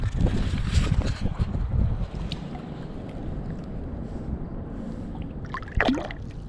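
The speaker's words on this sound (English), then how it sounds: "Wind's picking up." Gusty wind rushes across a microphone on a kayak on Brushy Creek Lake, a continuous broadband roar that swells and eases, with a brief brighter burst near the end and no speech.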